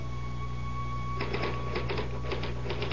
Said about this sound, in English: I typed through the night.